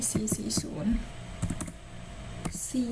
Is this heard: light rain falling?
no